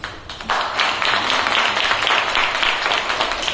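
Audience applause in a lecture hall during a career talk, a dense burst of clapping that starts after half a second and holds steady and loud to the end.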